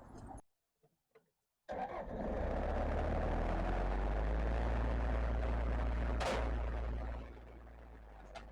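A Bobcat engine cranks briefly, fires and settles into a loud, steady idle nearby, then cuts off after several seconds, following a few faint knocks in near silence.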